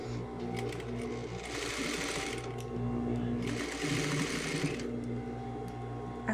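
A sewing machine topstitches a shirt collar, humming in a steady fast whir that runs continuously through two faster bursts, close and clear, with a person talking quietly alongside.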